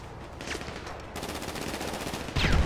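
Gunfire in the video game GTA V Online, a rapid automatic burst rattling through the scene with a louder shot near the end, loud and alone without talk.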